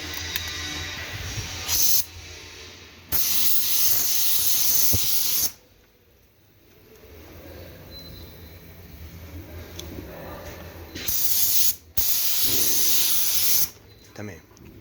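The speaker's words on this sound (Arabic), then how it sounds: "هنرشه بقى على لامع يعني كده" Spray gun laying pearl paint onto a car, hissing in several long bursts with quiet gaps between them, close and loud, and a voice speaks during the pauses.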